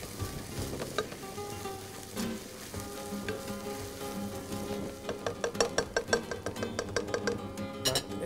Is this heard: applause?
no